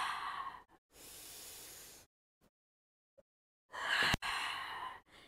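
Deep breaths during a foam roller exercise for the lower back: a long breathy exhale, then another after a pause, followed by a sharper louder breath, close and quiet with silence between.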